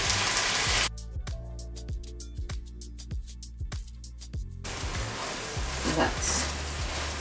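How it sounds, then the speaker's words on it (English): Tomatoes hit a hot pan for fideuà after a stretch of rhythmic knocking, then a dense, steady sizzle rises and carries on at moderate loudness, with no speech. "Now we're adding the tomatoes, and the juice from the tomatoes will decaramelize all the goodness"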